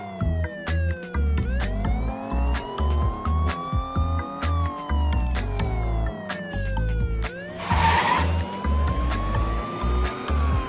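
A police car siren wails loudly and close, sweeping up and down in repeated cycles over a low engine rumble, with a burst of noise partway through.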